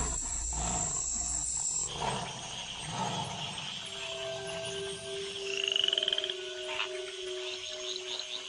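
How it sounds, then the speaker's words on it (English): Tree frogs calling together in the wild after the rains, a dense chorus of croaks and high trilling tones layered over steady outdoor ambience with no voices. "the tree frogs gather for bouts of communal coupling."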